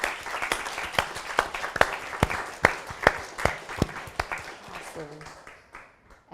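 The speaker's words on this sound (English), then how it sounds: "let's give one last round of applause for everybody" A small audience at a sustainability panel discussion claps steadily for several seconds, individual claps distinct and fairly close, fading out toward the end.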